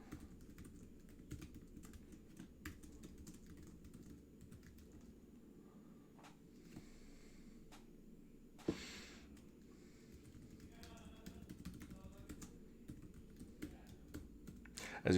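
Typing on a computer keyboard during a remote chemistry lecture, steady quiet clicks and key taps running throughout, close but soft, with one louder thump midway.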